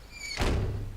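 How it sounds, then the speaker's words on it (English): A single door thuds shut in the zombie survival game 7 Days to Die, one dull, solid knock heard close and alone. "Shutting doors."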